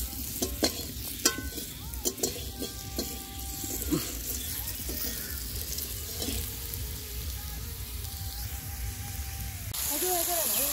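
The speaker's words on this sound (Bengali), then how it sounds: "তো গাইস দেখতে পাচ্ছেন আমরা এখন গরম মশলা এখন ভাজাভাজি হচ্ছে।" Garam masala frying in a pan over an outdoor fire at a family picnic, a steady sizzle with scraping stirs and clinks, wind and background voices throughout, louder sizzling near the end.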